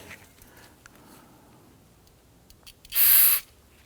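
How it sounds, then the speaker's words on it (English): Near-silence broken by a few faint clicks, then one short, loud hiss of aerosol solvent sprayed onto a rag for about half a second, during rear wheel bearing work on a Hyundai Elantra. "you can use a little bit of spray solvent on a rag"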